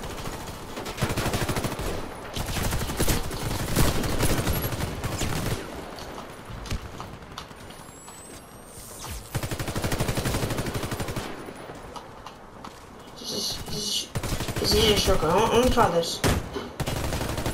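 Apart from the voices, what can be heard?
shotgun gunfire in the video game Warface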